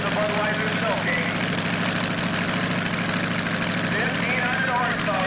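A 1,500-horsepower big-block Chevy engine on the Bud Snow King runs with a loud, constant drone, with a voice talking over it.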